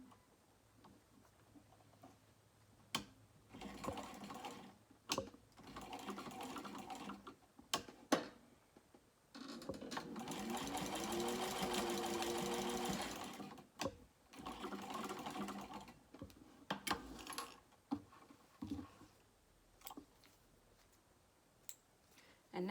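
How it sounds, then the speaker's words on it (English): Domestic sewing machine stitching across a zipper tab on a small crossbody bag, in short bursts and one longer continuous run in the middle, near and moderately loud, with handling clicks between runs. "and sew across it with that same seam allowance."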